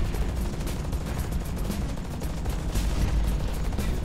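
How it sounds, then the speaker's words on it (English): Assault mech in the video game Hawken fires rockets and machine guns in a dense, continuous barrage, rapid rattling bursts layered over heavy booming blasts, loud and sustained with no talk. "firing rockets and shooting machine guns, and gets the job done"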